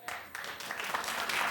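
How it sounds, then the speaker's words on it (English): A television talk show studio audience starts clapping in response to a host's question, a few scattered claps quickly building into fuller applause over about a second and a half. "Clap if you do."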